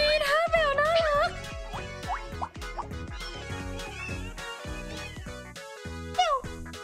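A cartoonish cat emote meows in the Free Fire video game, with a few short rising and falling mews over a busy, bouncy game music track and sound effects.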